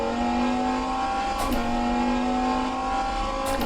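World sports car racing in rFactor 2 at laser-scanned Le Mans: a loud, continuous high-revving engine howl holding steady, with brief sharp gear-shift blips, heard alone without talk.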